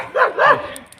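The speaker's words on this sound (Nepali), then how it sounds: "यहाँ हेर्नुस् कुकुर यसरी पालिन्छ।" A dog kept in a village yard barks twice in quick succession, close and loud, followed by a brief quiet tail.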